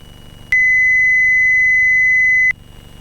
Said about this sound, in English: was that beep? It's the autopilot just recycling.